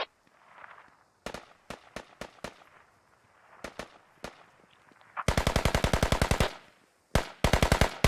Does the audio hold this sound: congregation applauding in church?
no